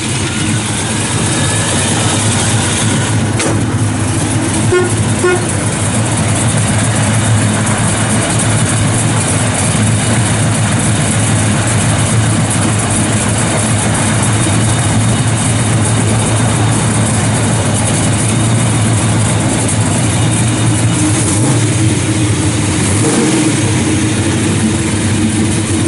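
A 1967 Chevrolet Chevelle SS with its 138-VIN V8 and 5-speed settles into a loud, steady idle, a continuous deep rumble that holds evenly throughout with no talking.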